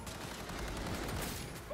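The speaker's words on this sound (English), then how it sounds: "Opening fire." Rapid gunfire in the Cyberpunk 2077 video game, a continuous rattling stream of shots throughout the short moment, fairly quiet in the mix.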